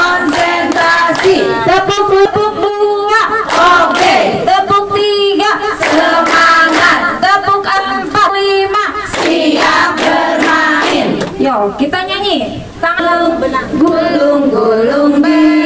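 A group of teachers at a halal bihalal gathering clap hands in a rhythmic counting game, crisp bursts of claps alternating with loud call-and-response voices, close and energetic throughout.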